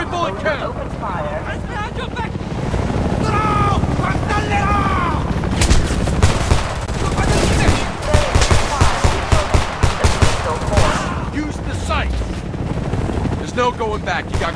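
Heavy gunfire in the video game Homefront, with rapid bursts of shots crackling over a dense battle mix, loud and close, while voices shout over the fighting.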